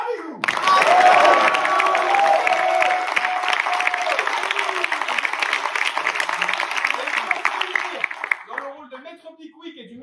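An audience at an amateur staging of the French theatre play Le Voyageur sans bagage applauds loudly and continuously, a dense roar of clapping with some cheers that tapers off near the end.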